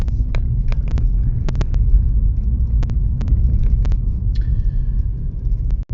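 An Evolute electric car running as a taxi rolls along a city road, with a steady loud low rumble of tyres and road noise inside the cabin, broken by a few small clicks and brief interior ticks.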